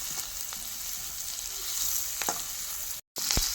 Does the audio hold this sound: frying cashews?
yes